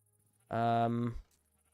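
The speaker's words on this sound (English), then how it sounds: "Now the typical process of getting the sheeps in." A single sheep in a video game gives one clear, close bleat lasting under a second against near silence.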